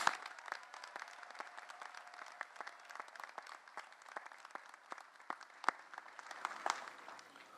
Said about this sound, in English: please join me again in a round of applause for our 2018 honorary degree recipients